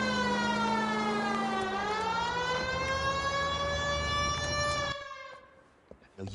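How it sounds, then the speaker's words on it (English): A police car siren wails loud and steady, its rising and falling tone bending as it passes, then fades away near the end. "we've got a siren for a reason"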